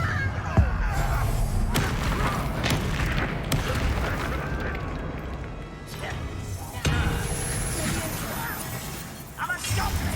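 Confringo fire spell blasts in the Hogwarts Legacy video game, heard as repeated booming, crashing impacts over dense game combat noise and music, with voices speaking between the explosions.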